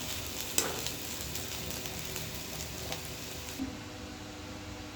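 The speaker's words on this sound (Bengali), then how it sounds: "ঢাকনা ছাড়াই একটু সময় ভাজবো কারণ মোড়েটা পুরো সেদ্ধ হয়ে গেছে" Vegetable bhaji frying uncovered in a pan gives a steady close sizzle, with a few soft stirring scrapes and clicks over about five seconds.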